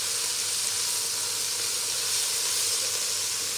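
Shrimp bisque cooking in a pot gives a steady, even hiss and sizzle, close and continuous throughout with no talking.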